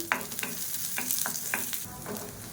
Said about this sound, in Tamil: சேர்த்துட்டு லைட்டாக கோல்டன் கலர் வர அளவுக்கு வதக்கிக்கணும்.